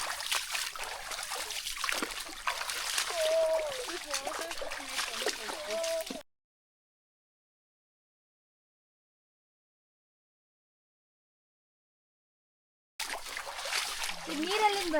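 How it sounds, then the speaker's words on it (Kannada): Water from a lake trickling and splashing as it runs through a rocky cave, a continuous close flowing sound broken by a long silent gap, with people talking over it. "ಅಲ್ಲಿಂದ ಮೇಲಿಂದ ನೀರು ಬರುತ್ತೆ ಮೇಡಮ್"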